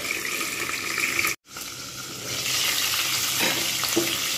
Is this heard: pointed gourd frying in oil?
yes